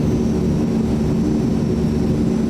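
C-160 twin-engine transport aircraft engines throttled back in the MSFS 2024 flight simulator, a steady loud droning engine roar with a low rumble, constant throughout with no voices.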